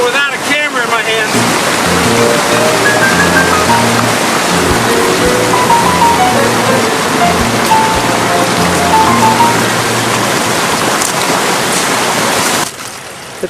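A forest stream on a trail near Cascade Falls rushes and splashes loudly and steadily close by, with a voice speaking briefly over the flow near the start.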